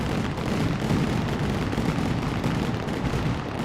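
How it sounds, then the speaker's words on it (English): Fireworks burst continuously in the video game Fireworks Mania while a neighborhood display goes off, giving a dense, rumbling barrage of overlapping booms and crackles at steady loudness with no pauses. "There's loads of fireworks."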